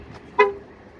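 A 2016 Ford Focus Titanium 1.5 diesel automatic gives a single short horn toot when locked, sharp and fairly close, with a faint lead-in before it and quiet background otherwise.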